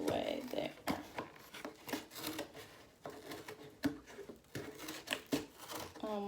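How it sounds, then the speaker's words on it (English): Scissors work through a sheet of cardboard for a matzah craft, producing a series of crunchy, uneven cuts and tearing snips, close and moderately loud, with a person talking over much of it. "It's easy to cut the cardboard on the edge, but then when you get to the middle, it's kind of hard to get your scissors all the way there."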